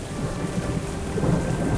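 In a farming video game, steady heavy rain pours with a low rumble of thunder beneath it, a continuous dense wash of sound with no talk.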